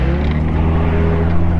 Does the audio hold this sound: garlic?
no